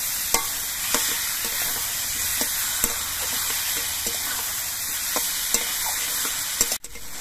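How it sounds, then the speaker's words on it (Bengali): Fried potatoes and spices stir-fry in a pan for a small mourala fish curry, with a continuous sizzle and repeated spatula scrapes and taps, close and steady, no speech. "এবার আলু দিয়ে মশলা দিয়ে আরো কিছুক্ষণ কষিয়ে নিতে হবে।"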